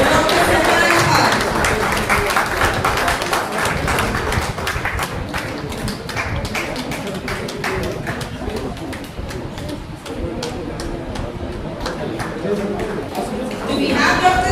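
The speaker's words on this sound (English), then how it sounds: "a big round of applause for Dr. Salman Khan" Audience at a college alumni reunion applauding an honoree, sustained clapping from many hands throughout, with a voice over it at the start and end.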